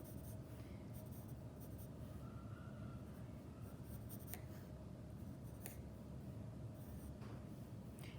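Steady, continuous scratching of a drawing tool moving across paper while sketching a figure, close and fairly quiet, with no talking.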